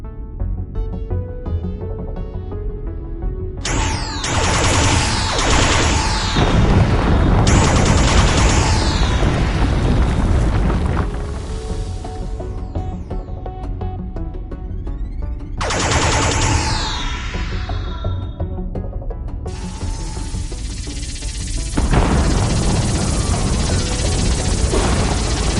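Hand cannon fire and heavy explosions destroying a modular power-up in the Doctor Who: The Edge of Reality game, dense booming blasts in repeated loud waves over a continuous roar of game music and effects.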